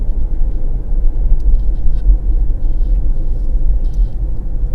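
Toyota hybrid engine starting on its own and running, a steady loud low rumble heard from inside the car with no talk.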